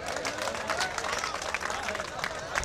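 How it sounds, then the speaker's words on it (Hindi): Audience applause at a mushaira poetry gathering, dense steady clapping from a large crowd with some murmuring, continuous and fairly loud throughout. "तालियों से इनका इस्तकबाल फरमाएं"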